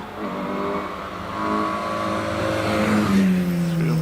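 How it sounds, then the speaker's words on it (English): An Austin A40 saloon car climbs the Prescott hillclimb, its engine droning loud and close, the pitch rising as it revs through the gears, with no talk. "As John Louch rounds pardon in the Austin A40."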